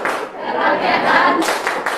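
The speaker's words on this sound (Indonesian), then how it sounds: "Tepuk Pancasila." Classroom clapping for the Tepuk Pancasila chant during a microteaching lesson, a dense burst of many hands clapping with a few sharper accents near the end, with faint voices mixed in.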